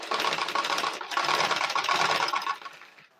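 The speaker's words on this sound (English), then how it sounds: "I'll start stitching" A sewing machine stitches a kids' dress, or baby frock, in two close, loud bursts of fast mechanical rattle split by a brief pause, before winding down to quiet.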